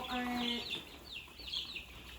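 Farm hens cluck close by, with several short rising clucks and a brief drawn-out cackle at the start, fairly quiet and without talk over them.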